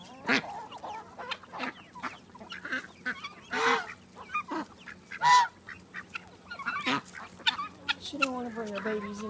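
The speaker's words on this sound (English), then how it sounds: "There's a mama chick over here with 2 little tiny baby chickens." A mother hen with three tiny baby chicks, outdoors, giving soft clucks and small peeps in short irregular bursts, close by, with a voice talking in between.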